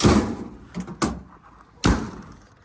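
A modified left front car door is shut, giving a soft thump followed by two sharper slams close by, spaced unevenly over a couple of seconds with no talking.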